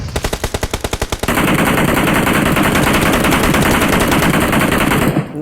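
Rapid bursts of synthetic gunfire in PUBG Mobile ring out, first as distinct rhythmic shots, then merging into a loud, sustained barrage that stops abruptly.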